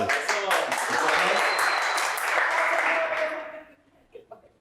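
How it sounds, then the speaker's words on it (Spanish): Applause from an audience at a Spanish-language church talk, a dense burst of clapping that holds steady for about three seconds before fading out, with a few scattered claps at the end. "Un aplauso."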